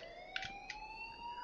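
An alarm rings in the video game Life is Strange, a steady electronic tone with a slowly rising pitch, fairly faint, with a couple of brief clicks or knocks over it.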